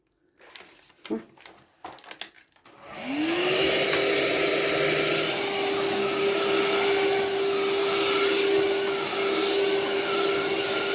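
A few knocks and handling sounds come first, then a vacuum cleaner powers up with a rising whine and runs loud and steady over a floor runner in a home.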